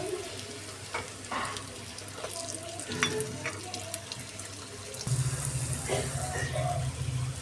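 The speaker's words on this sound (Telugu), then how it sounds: "పూరీలు వేసుకుని కలుపుతూ రావాలి" Puris frying in hot oil while being stirred and turned make a continuous bubbling sizzle with scattered scraping sounds, growing louder and denser toward the end.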